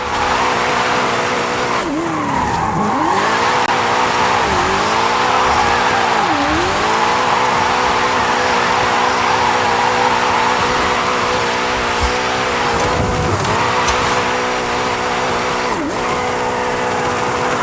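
Engine of a 2015 Mustang GT in a racing game, revving loudly and steadily throughout with repeated pitch dips and climbs as it shifts and accelerates down a winding road, tire squeal mixed in, no talking.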